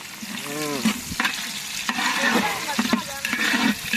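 A pot of food stirred over an open village cooking fire, with repeated scraping strokes and a steady sizzle; a voice briefly sounds in the background.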